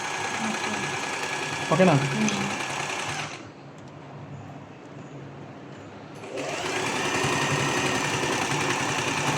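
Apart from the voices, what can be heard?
sewing machine reverse stitching back and forth on cloth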